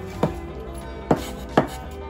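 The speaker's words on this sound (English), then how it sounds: "by the end of you chopping your onion, it should look a little something like this" A knife chops through an onion on a cutting board in three distinct, crisp strikes spaced unevenly, close and clear with no talking.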